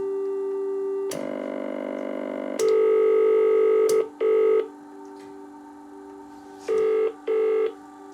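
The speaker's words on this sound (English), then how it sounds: "in a telephone exchange, there are loads of different tones and they're all differentiated by pitch and rhythm" Telephone exchange tones play as steady pitched beeps: one long tone first, then a louder sustained tone, followed by paired short bursts in a regular rhythm, clean and alone.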